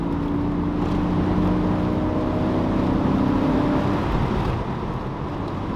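A first-generation Porsche Boxster S (986) with an aftermarket exhaust idles and runs with a steady, droning engine note and humming tones, holding constant before easing off slightly at the end.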